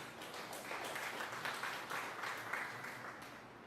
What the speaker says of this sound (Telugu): మనందరూ కూడా చప్పట్లు కొట్టి పాస్టర్ నితిన్ గారిని మరి ఆహ్వానిద్దాం